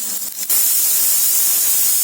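Steady, loud broadband sizzle of cumin seeds frying in hot sesame oil in a kadai, a continuous hiss after a brief rustle at the start, with no talking.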